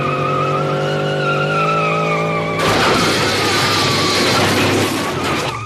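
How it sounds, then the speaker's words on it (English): A cartoon car's engine revs in a rising whine as the gas is floored, then breaks into a loud, sustained tire-skidding screech with the front wheels lifting off the ground. "Forgoing the lock, Homer stomped the gas,"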